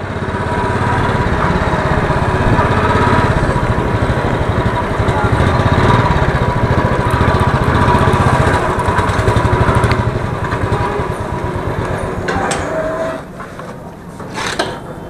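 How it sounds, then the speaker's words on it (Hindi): A motorcycle engine drones steadily while the bike is ridden slowly on a sunny road, loud and continuous throughout, with a slight dip near the end. "तो वैसे मैं बाइक ज़्यादा तेज़ नहीं चलाऊँगा"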